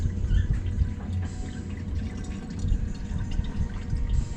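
Water drains from a funnel during a compression test on a VW turbo diesel engine, trickling and dripping unevenly at close range, with small splashes and irregular gurgles.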